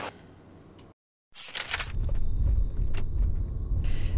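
A 2013–15 Nissan Altima at night, a door clunk and key rattle followed by the steady low rumble of the car driving, close and without talk.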